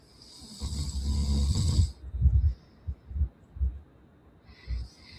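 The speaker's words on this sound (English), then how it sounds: "Damn, he really snoring." A sleeping man snores deeply, one long rumbling inhale followed by several shorter, rhythmic snorts, close and loud with quiet gaps between breaths.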